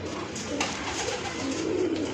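A female Rampuri pigeon coos softly, a low steady murmur of bird calls close by with no talking over it.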